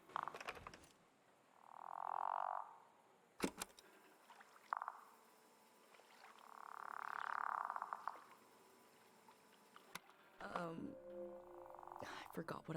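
Frog croaks from the game Season: A Letter to the Future come as several soft, rounded calls spaced a few seconds apart, with clicks and a brief burst between them.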